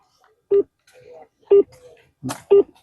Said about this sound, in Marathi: मी स्वतः आता मुख्यमंत्र्याला ही भावना व्यक्त आपल्या समोर करतो आणि त्यांना फोन लावलेला आहे